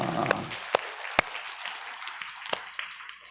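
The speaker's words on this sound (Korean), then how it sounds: "우리 수관 부목사님 또 우리 교사들 박수 한번 쳐주시기 바랍니다." Scattered handclaps from a church congregation at a Sunday afternoon worship service, applauding the teachers: a few separate, sharp claps spaced out over a few seconds, fairly faint, with a quiet room between them.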